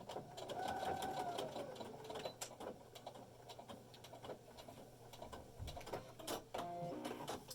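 Sewing machine tacking down fabric for a face mask, stitching in short bursts of rapid needle clatter with pauses and small handling noises between, fairly quiet and close.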